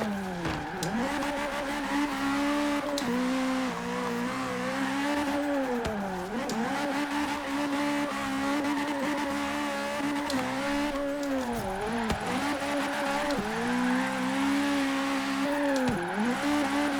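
A Toyota car in Forza Horizon 3 holds its engine at the rev limiter, a loud, sustained buzzing drone with repeated dips and surges as the revs bounce, alone without speech.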